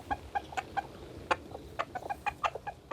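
Backyard hens cluck at feeding time as they are given meal leftovers, a string of short, fairly faint clucks in an irregular rhythm from a few birds nearby.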